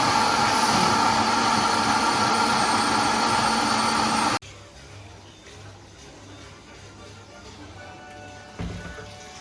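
A kitchen blender whirs loudly at full speed, blending carrots for a Sunday dinner, then cuts off abruptly, leaving a quieter room with a low hum and a brief bump near the end.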